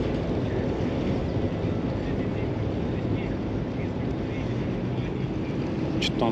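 Steady wind blows hard across a fishing spot, a continuous broadband roar of buffeting against the microphone throughout with no clear breaks.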